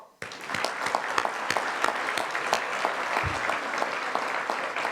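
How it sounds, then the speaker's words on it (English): Steady, dense audience applause fills a gala hall, with sharp individual claps standing out across the whole stretch and no break in the sound. "I think we should all give everybody a round of applause."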